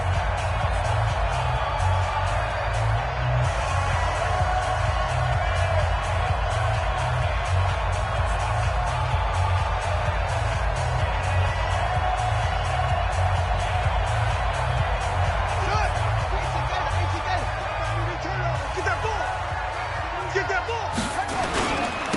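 Stadium crowd in a PS4 football video game at Glendale keeps up a steady, loud roar of cheering for the whole stretch, with a commentator talking over it.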